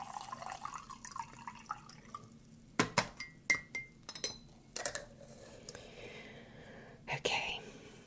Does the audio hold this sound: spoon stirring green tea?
yes